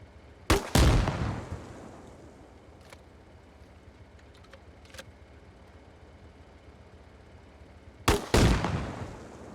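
Shots fired at the rear of a BTR armoured vehicle in Arma Reforger: two loud, close weapon blasts land near the start and near the end, each with a rumbling decay, separated by quiet ambience with faint ticks.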